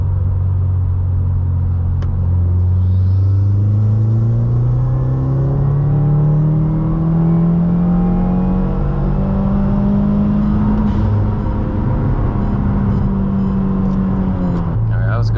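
A Subaru WRX in third gear is floored from about 2,500 rpm toward redline, the engine note climbing steadily in pitch for about fifteen seconds with a loud, close rumble inside the car.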